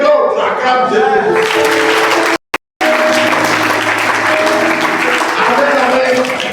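A church congregation applauding and cheering for Jesus, a loud dense wash of clapping with voices mixed in, briefly cut off by a moment of silence before resuming.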